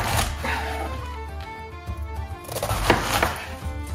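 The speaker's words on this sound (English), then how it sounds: "You're just going to cut up your cabbage into big chunks." A knife chopping cabbage into big chunks on a board, a series of firm, close thuds at an uneven pace, with faint background music underneath.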